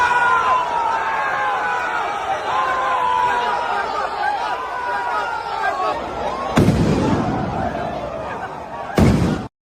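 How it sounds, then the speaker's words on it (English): Flash bombs go off amid a rowdy street crowd of basketball fans celebrating in New York, two sharp loud bangs near the end cutting through continuous crowd chatter and cheering. "those were flash bombs"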